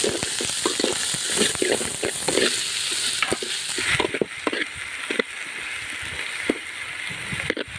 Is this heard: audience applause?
no